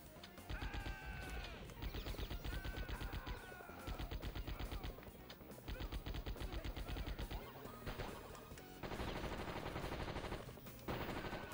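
Rapid machine-gun bursts and gunshots from the Die Hard Trilogy video game rattle out loudly in repeated volleys separated by short pauses, with no talking.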